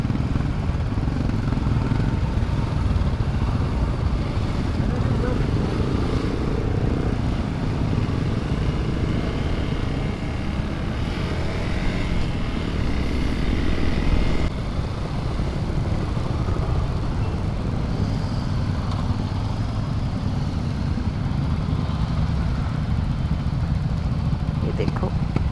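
Motorcycle riding at a Madmax 2.0 rider event in Goa, a steady engine drone with wind rush running throughout, while someone talks over it.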